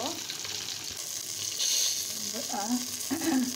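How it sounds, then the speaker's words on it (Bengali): Eggplant fries in hot soybean and mustard oil, a steady close sizzle and hiss with light stirring, while a voice speaks briefly over it. "তেলটা গরম হয়ে গেছে, এখন আমি বেগুনগুলা ভেজে নেব।"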